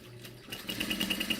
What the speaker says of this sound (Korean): 그럼 이렇게 놓은 상태에서 봉제를 해보도록 하겠습니다.